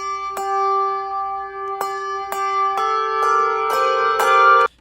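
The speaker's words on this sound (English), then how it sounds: "and all of the bell parts" Handbells from a virtual ensemble mix ring out one after another, clear sustained tones struck at intervals and layering into overlapping chords that resonate until a sudden cutoff.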